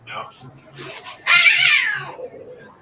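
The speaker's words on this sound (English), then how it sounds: "That sounded like a pissed off kitty." A cat lets out a loud, drawn-out angry yowl close by, preceded by softer murmuring voices and brief noises.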